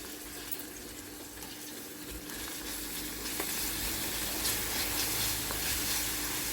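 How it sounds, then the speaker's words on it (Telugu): Turmeric and ginger-garlic paste sizzle in a frying pan, a steady close hiss that swells a little louder partway through, with no talk. "ఒక పసుపు వేసుకుందాం, తర్వాత అల్లం వెల్లుల్లి పేస్ట్ వేద్దాం."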